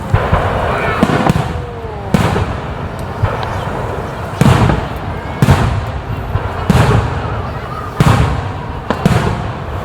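Fireworks bursting at the Tokai Festival fireworks display in 2024, a steady series of loud booming explosions every second or so over crackling and crowd murmur, with some people talking in the background.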